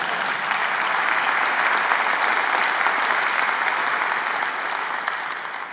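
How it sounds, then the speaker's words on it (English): Sustained applause from an audience honouring a national championship soccer player named Becky, steady dense clapping that fills the room for several seconds before tapering slightly at the end. "let's give a round of applause for Becky"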